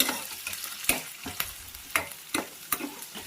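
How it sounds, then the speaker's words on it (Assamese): Duck meat frying in a pan of oil, a steady close sizzle broken by several sharp clatters of stirring spaced about half a second apart. "এইফালে মই এতিয়া ভাজিম হাঁহ মাংস অকণ"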